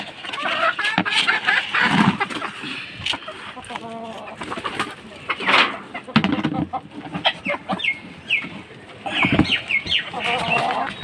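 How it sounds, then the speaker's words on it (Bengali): Farm chickens cluck and squawk excitedly while feed is mixed on a rainy day, with repeated close clucks, brief wingbeat-like bursts and a steady wet background hiss throughout. "আর মুরগিগুলা এই যে পাগলের মতন"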